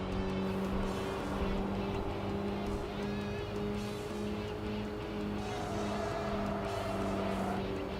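A car races by in the video game Tokyo Xtreme Racer 3, its engine a steady, loud, droning hum that holds for the full stretch with no clear pause.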